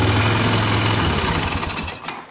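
A 1999 Yamaha Bear Tracker 250 quad engine idles loudly and close with a steady rough chugging that fades slightly as it winds down at the end.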